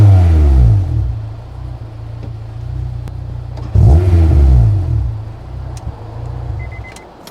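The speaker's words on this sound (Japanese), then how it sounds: "今サイレーサー取っちゃってるからサイレーサーないんで結構うるさめですけれども" An unmuffled Honda S2000 sports car engine, muffler removed, revs loudly twice, each rev climbing sharply then settling into a rough, throaty idle, close by.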